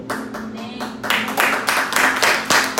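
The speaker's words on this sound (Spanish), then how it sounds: "Mira, ya está aplaudiendo." A church congregation claps, scattered at first and then swelling into steadier, louder applause over a few seconds, with a faint voice beneath.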